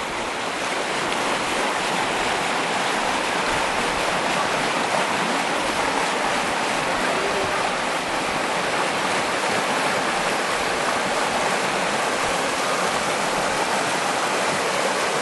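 The River Dove flowing near the Dovedale stepping stones in the Peak District, a loud, steady broadband rush of moving water that continues without a break, with no talk.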